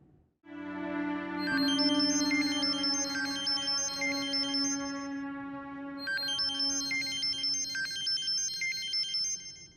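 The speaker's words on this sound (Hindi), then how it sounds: "वशमा, फोन क्यों नहीं उठा रही हो?" A phone ringtone rings unanswered: a bright electronic melody repeats in two loud cycles over roughly nine seconds, heard alone without any voices.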